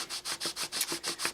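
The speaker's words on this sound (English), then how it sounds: "in time we'll see if it's sanding smoothly across all surfaces" Hand sanding works the gasket surface of a 1979 Johnson 6hp outboard in small figure-eight strokes, giving a quick, even rhythm of about ten close, raspy scrapes in just over a second.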